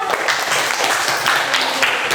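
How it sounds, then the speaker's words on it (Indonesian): Brief burst of applause from a class for a student group after their presentation, steady dense clapping throughout with a voice faintly underneath. "Tepuk tangan untuk kelompok 3."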